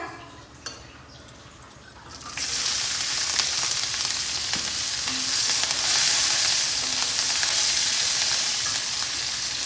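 Chopped green chilies drop into a little hot oil with fish and potato in the pan, the sizzle jumping suddenly louder and then holding as a close, dense, steady frying hiss with faint utensil clinks.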